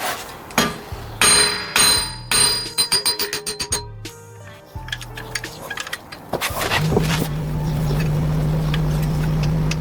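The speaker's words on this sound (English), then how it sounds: "hammer time." Wheel studs are hammered out of the front hub of a 2015+ Subaru WRX in a string of sharp, ringing metal blows, some in quick bursts, before a steady mechanical drone takes over.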